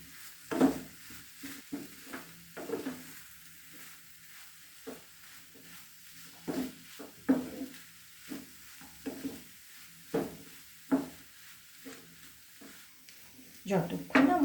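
Spices being stirred in a pan for a mixed vegetable paratha filling, soft scraping and light clinks of a spoon under a faint sizzle, recurring in short strokes while a person talks throughout.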